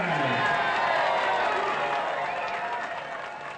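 Crowd cheering and clapping for the winner of a Spam eating contest, a steady wash of applause and shouts that slowly tapers off over a few seconds.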